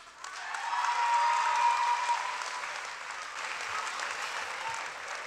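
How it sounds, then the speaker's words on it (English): Audience applause at a Say Yes to Education Cleveland morning event, a dense roar of clapping from a large crowd that swells quickly, peaks early and then carries on steadily. "Give another round of applause to our 3 student leaders from John Marshall High School"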